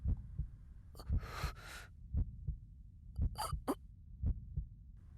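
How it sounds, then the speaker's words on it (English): A heartbeat effect from the visual novel Chaos;Child thumps in slow, regular double beats. Loud breathy gasps and rushes of noise break in between the beats. "All I could hear was the sound of my own heartbeat."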